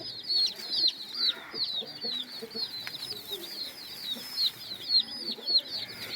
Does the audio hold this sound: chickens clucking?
yes